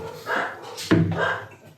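Dogs squabbling outside, the household dog against a stray that came by, give a few short close yelps and whimpering barks in quick bursts, loud for a moment before easing off.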